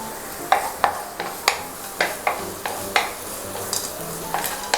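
Onions sautéing in a pan for mutton biryani with green chillies and coriander leaves, a steady sizzle broken by repeated sharp scrapes and clicks of a spoon stirring, close and fairly loud.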